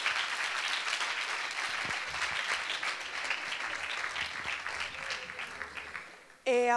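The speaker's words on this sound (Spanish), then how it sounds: "Un aplauso para todos ellos." An audience at a school videoconference with an Antarctic research base applauds in a steady patter of clapping that fades, with a voice briefly coming in near the end.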